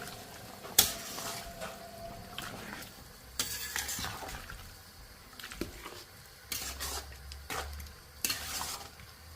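Pork vindaloo being stirred in a pot, with scraping and clattering strokes and a soft sizzle coming in irregular bursts over a low background hum; no one talks.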